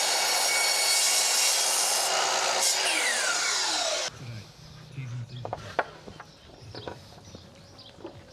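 A saw cutting through a wooden mitre in a pool house build: about four seconds of loud, steady rasping strokes, then quieter scattered knocks, scrapes and handling noises close by.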